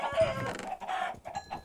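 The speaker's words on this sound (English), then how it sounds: "Man, there's a lot of chickens." Several chickens cluck and squawk close by in a survival video game, a short burst of overlapping calls.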